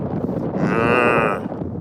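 A human voice imitating a cow, producing one drawn-out, close, fairly loud moo with a slight wind rumble behind it.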